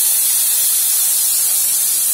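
Tamarind pulp hits a hot pan of chana masala spices and sizzles, making a loud, steady, close hiss that runs without a break.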